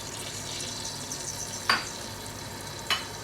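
Cooking oil for aloo matar pulao going into a pot on the stove. Soft hiss and faint sizzle are marked by two brief sharp splashes or pops, fairly quiet and close.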